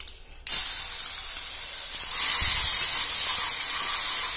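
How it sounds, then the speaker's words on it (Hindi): Garlic paste with mustard seeds and a pinch of asafoetida hits hot oil with a sudden loud hiss that keeps sizzling steadily up close and swells louder after about two seconds, with no talk. "जब तक थोड़ा तेल गर्म रहेगा, तब तक हम इस लहसुन को इसमें भूनेंगे"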